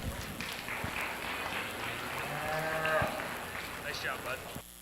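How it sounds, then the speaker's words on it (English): Audience applause at a 4-H livestock show after a market heifer class, moderate scattered clapping in a large show ring with a voice talking over it and faint livestock nearby. "Let's give them a round of applause."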